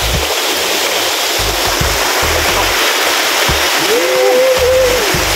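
Balok Falls in Tubotubo, South Santa Cruz, Zambales: a waterfall and stream give a steady, loud rush of falling water, with a brief faint whistle-like tone near the end.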